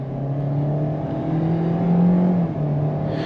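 A 2022 Kia Seltos EX AWD with a 2.0L engine and CVT floored from inside the cabin, a steady engine drone climbing in pitch under full throttle, fairly loud, no talking.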